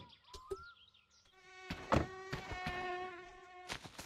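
A wasp buzzing near the player in the video game My Summer Car, a steady, close, harmonic drone that rises and holds after brief clicks and game noises.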